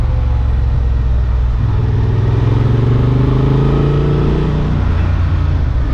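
A 2023 Honda XL750 Transalp adventure motorcycle engine pulls hard under acceleration, its steady loud drone climbing in pitch over several seconds before easing off, with no talking.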